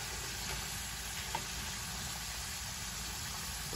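Beans simmering slowly and browning in a cast iron skillet give off a steady, even sizzling hiss that holds without a break and stays fairly quiet and close, with no talking.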